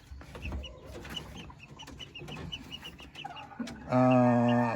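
White Kelso gamefowl roosters and chickens in a poultry pen cluck and chatter softly at middle distance, then a rooster lets out a loud, close crow at the end.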